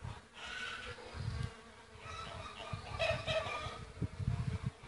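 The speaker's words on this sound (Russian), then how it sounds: "Весь абрикос гудит. Просто гул, вон сколько их летает, пчелок." A steady, dense buzzing of many bees swarming close by in a flowering apricot tree, with occasional faint clucks in the distance.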